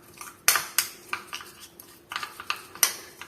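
A spoon clinks and scrapes around a bowl as masala is mixed with olive oil for a mushroom chicken dish, giving a run of sharp, irregular metallic taps and knocks close by.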